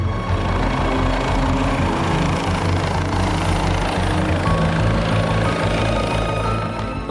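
A rescue helicopter flies over the Alps, its rotor and engine giving a loud, steady, close roar that fills the whole stretch without talk.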